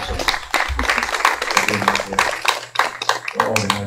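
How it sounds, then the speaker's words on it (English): An audience claps for campaign volunteers at a congressional campaign event in Florida, a dense, close burst of applause with talk mixed in over it. "Let's give them a round of applause."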